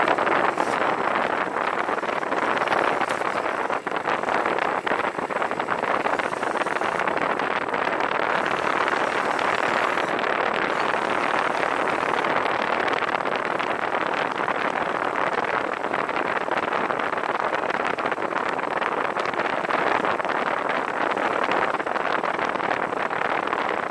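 A T-28 Trojan airplane's engine drones steadily at an airfield, a broad, constant roar buffeted by wind that persists without letup.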